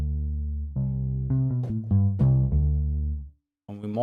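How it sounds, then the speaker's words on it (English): Guitar sample in 8Dio Soundpaint pitched down an octave, a deep, thick tone playing a short run of sustained notes that fades into silence before one more note begins, no talking. "So when we bring that down -12, for example, the guitar now sounds like this."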